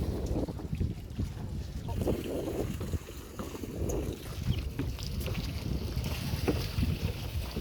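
A small wooden boat moves across the water near a floating restaurant, with a steady low rumble of motion, wind and lapping water continuing throughout, faint voices scattered in the background.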